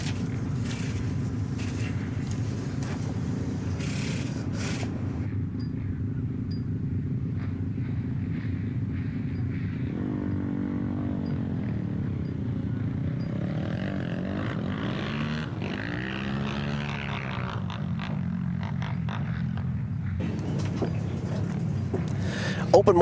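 Open-class ice racing motorcycles at an NWIRC season opener in Sarona, Wisconsin, producing a steady engine drone across the whole stretch, with revving sweeps that rise and fall as the bikes pass, and a race announcer talking over it.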